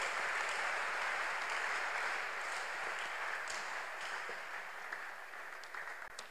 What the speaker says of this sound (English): Let's clap unto God and I will clap unto God.